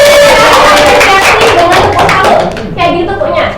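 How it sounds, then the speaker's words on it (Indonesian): A school class claps out the rhythmic 'tepuk salut' pattern, loud, close and crisp, with the beat pausing and then resuming in sharp groups, children's voices audible around it. "Kayak gitu tepuknya. Tepuk salut."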